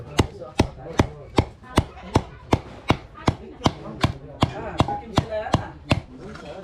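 Chicken parts are chopped on a board with a heavy blade, about fifteen sharp, evenly spaced thwacks in a quick steady rhythm, loud and close, with no talk over them.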